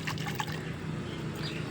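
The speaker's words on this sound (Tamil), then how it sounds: "தண்ணி ஊற்றிட்டு வந்துடலாம்." Water is poured into a container, a steady liquid splashing and trickling at close range, continuous throughout.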